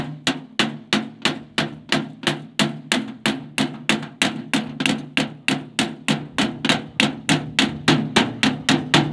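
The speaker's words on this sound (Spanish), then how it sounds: "Vamos a ir golpeando alrededor del diámetro de nuestro remache." Light, evenly spaced hammer taps on an aluminum rivet, worked around its diameter in sheet-metal riveting, about three strikes per second, close and crisp, with no talk.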